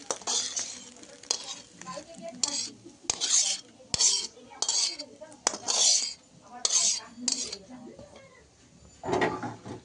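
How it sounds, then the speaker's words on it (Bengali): Metal utensil scrapes and clinks against a pan in short bursts as a fried egg is lifted onto a plate, with faint sizzling underneath and a few soft thuds. "তো আমি ডিমটা নামিয়ে নিচ্ছি।"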